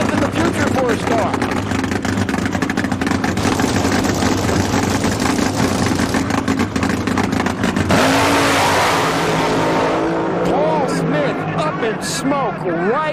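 Drag racing car running uncontested down the track, a loud raw engine roar with rapid pitch sweeps and bursts of revving, heard under an excited announcer's commentary and crowd ambience.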